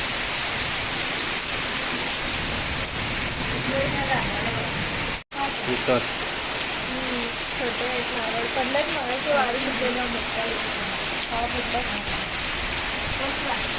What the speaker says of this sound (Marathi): आता पाऊस चालू झाला आहे जोरात